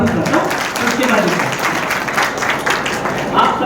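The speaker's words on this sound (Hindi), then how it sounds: "एक बार मुझे माहौल बना के तालियां बजाकर बता दें" An audience at a Hindi kavi sammelan poetry recital applauds, and dense, continuous clapping fills the hall at a fairly loud level throughout.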